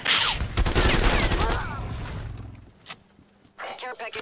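Fast automatic gunfire in Call of Duty: Cold War hardcore team deathmatch, a dense close burst early on that fades out, followed by a couple of isolated sharp sounds, with a player talking.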